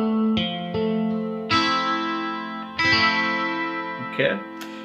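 Electric guitar playing the next section of a riff, a few sustained, effects-laden notes and chords with chorus and echo, struck one after another and ringing clearly at close range.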